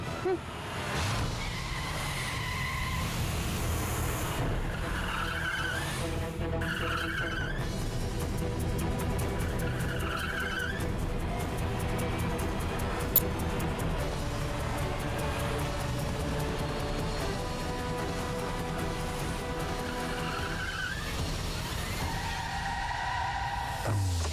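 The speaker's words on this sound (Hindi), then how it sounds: "आ गया कोई रईस बाप की औलाद गाड़ी की स्पीडिंग करता हुआ" A speeding car roars and skids along a road, its engine and tire noise running steadily under background music for the whole stretch.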